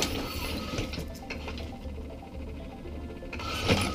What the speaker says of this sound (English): that is the sound of the actuators.